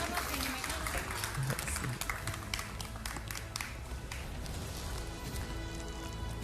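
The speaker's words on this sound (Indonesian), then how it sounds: "Sekali lagi kita berikan tepuk tangan untuk Mbak Yeni Wahid dan Mbak Alisa Wahid" Audience applause at the Wonder Mom Award 2025 ceremony, dense steady clapping across the whole stretch, with a voice speaking over it.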